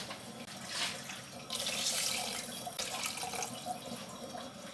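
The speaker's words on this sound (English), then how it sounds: "Then we're going to add 3 cups of water." Water pours steadily into a pan of curry sauce for several seconds, a close splashing stream that swells louder midway and continues without talk.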